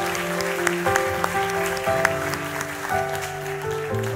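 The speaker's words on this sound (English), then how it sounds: "Can we give them a hand clap?" A church congregation claps for performers during a service, a steady wash of applause blended with a sustained organ or keyboard chord underneath, moderately loud and with no talk over it.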